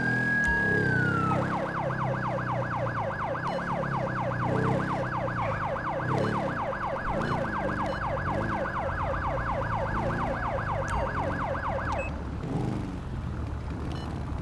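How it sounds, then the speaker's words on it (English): A video-game police siren, a Federal Signal Delta, wails in a fast rapid yelp, a long steady sweep for about ten seconds over a vehicle rumble before cutting off. "We're still using the Federal Signal Delta siren."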